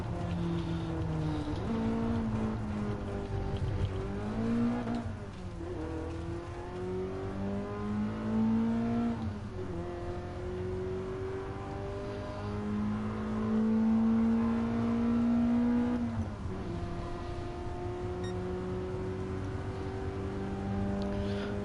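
A BMW racing car in a driving video game with a manual sequential gearbox, its engine droning steadily throughout and rising and falling in pitch as it revs up and shifts gears, with no talking.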